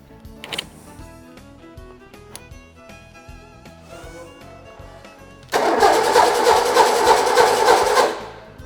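A six-cylinder car engine with its spark plugs pulled cranks over. Quieter mechanical whirring comes first, then a loud, sustained cranking burst lasts about two and a half seconds before it stops.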